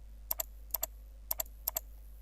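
Someone types a value on a computer keyboard while working in AutoCAD, producing four quick pairs of crisp key clicks, evenly spaced and quiet against a faint low hum.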